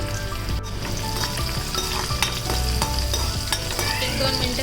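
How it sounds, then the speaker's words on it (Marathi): Garlic, chili and asafoetida sautéing with cumin seeds in hot oil for a fenugreek bhaji, a loud, dense sizzle and crackle with stirring scrapes, steady and close, no talking. "1-2 मिनटं चांगलं परतून घ्या."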